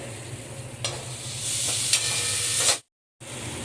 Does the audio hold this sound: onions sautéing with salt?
yes